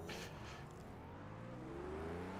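A Renault Cup race car in Project CARS 2 at Circuit of the Americas fires back up, its engine droning and rising steadily in pitch, close and continuous.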